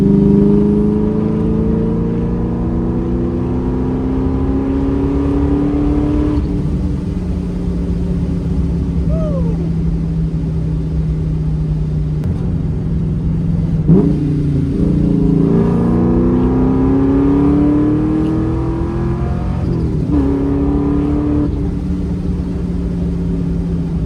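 A Ford Mustang restarted after two years of sitting idles loudly up close, with a deep steady engine note rising and falling through several revs over about twenty seconds, without speech.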